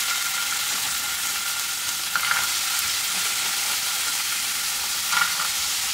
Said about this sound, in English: To this, I'm going to add some onion and carrots. I have these frozen onions that I'm going to be using.